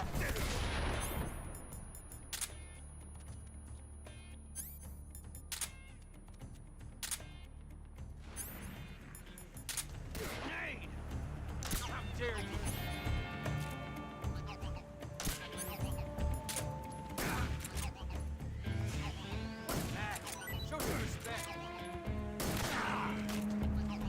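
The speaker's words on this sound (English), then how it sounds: "I figured just shooting Ocelot once is probably better than..." Gunfire from the stealth-action game Metal Gear Solid 3 during a boss fight with Ocelot, sharp shots scattered through a busy, continuous mix of game music and effects, with bursts clustered near the start and middle.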